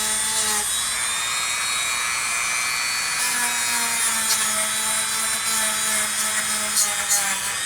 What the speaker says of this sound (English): Just kind of letting the weight of the Dremel itself, and I'm trying to be super careful around this transformer.